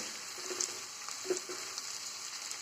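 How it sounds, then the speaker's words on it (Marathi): Ridge gourd peels fry in hot oil with a steady, faint sizzle, broken by a few soft pops and spatters. "हे तळून घेते मी चांगलं तेल चांगलं गरम झाले"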